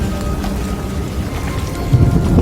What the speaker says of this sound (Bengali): সাথে শুরু হলো ঝুম বৃষ্টি